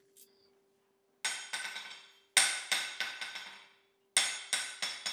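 A hammer strikes a 100lb anvil on its shimmed stand in three quick groups of bright, ringing blows, each strike decaying with a metallic sustain, close and clear with no talk.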